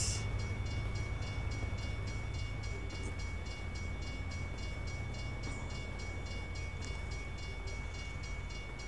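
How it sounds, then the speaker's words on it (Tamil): A long train rolls past in American Truck Simulator early in the morning, a loud steady rumble with rhythmic wheel clatter that runs throughout without talk. "ஏய், எவ்வளோ பெரிய ட்ரெயின்ரா இது?"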